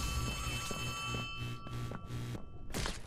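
A telephone in Poppy Playtime Chapter 3 rings in repeated electronic bursts with short gaps between them, fairly loud and steady, over a low ambient hum.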